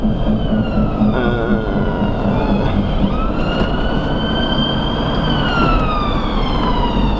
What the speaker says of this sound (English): I'm just going to let this ambulance pass.